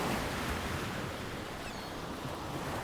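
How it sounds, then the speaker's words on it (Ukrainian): Steady wash of sea surf with a faint high gull cry drifting in partway through. "пізнали це море та чайки"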